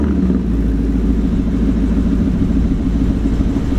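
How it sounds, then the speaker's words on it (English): A 2016 Ford Mustang GT with its 5-liter V8 and Roush axle-back exhaust idles close by, giving off a steady, deep, even rumble that holds without a break the whole time. "It has this very nice deep rumble to it."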